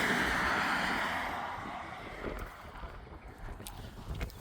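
Steady wind buffeting a microphone outdoors, a loud broadband rush that eases slightly midway, with faint intermittent knocks underneath.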